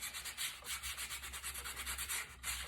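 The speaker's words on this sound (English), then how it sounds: "I probably should have used a bigger piece of sandpaper" Quick, rhythmic back-and-forth rasping of sandpaper rubbing a surface, close and fairly quiet, with no voices.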